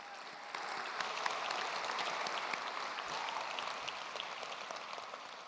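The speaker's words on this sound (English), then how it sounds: "Let's give them a huge round of applause" An audience at a scholarship program's 25th anniversary celebration claps in sustained, dense applause, heard from a distance and steady throughout before easing slightly at the end.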